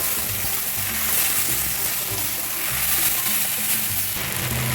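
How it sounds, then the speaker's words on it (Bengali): Mustard-poppy spice paste with turmeric and chili powder fries in a pan, a loud, dense, continuous sizzle with faint scraping as it is stirred, close up and without talk. "এবার এর মধ্যে সরষে পোস্ত মশলাটা দিয়ে দেবো, তার সাথে একটু হলদির গুঁড়ো আর দিয়ে দেবো একটু লঙ্কার গুঁড়ো, দিয়ে ভালো করে মশলাটা মিক্স করে নেব।"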